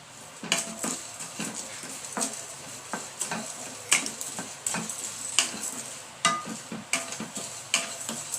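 Dried chillies frying in oil while making homemade sambar powder, a steady crackling sizzle with repeated scraping stir strokes in a regular rhythm, close and clear with no talk.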